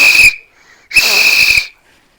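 A whistle is blown twice, loud and shrill: a short blast, then a pause, then a longer sustained blast, with some breathy noise around each.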